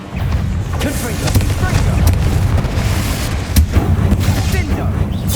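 Confringo fire-blast spells go off in Hogwarts Legacy as loud, rumbling booms and crackling bursts in quick succession, with a voice heard amid the clamour.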